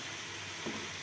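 Homemade ghee heats in a pan with a constant, fairly faint frying hiss, and a spoon turns gently through it once with a brief soft swish.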